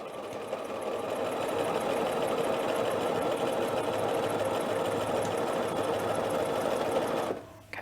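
A sewing machine stitches a dress facing and collar at a steady fast whir for about seven seconds, close and continuous, then stops abruptly.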